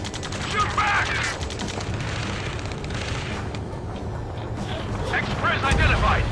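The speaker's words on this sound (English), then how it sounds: "Taking fire! We're pinned down!" Dense gunfire from Ace Combat 7: Skies Unknown, during the ground rescue mission, rattles on continuously as a loud, noisy battle bed, with voices talking over it throughout.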